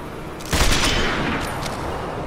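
Sniper rifle shots in a video game, a loud close gunshot burst with a long ringing tail that fades into steady game background noise.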